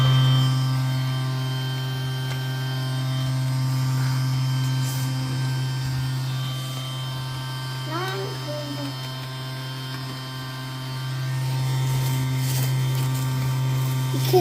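A Henry vacuum cleaner runs over carpet, giving a soft, steady motor hum with a constant droning tone throughout and faint handling noises now and then.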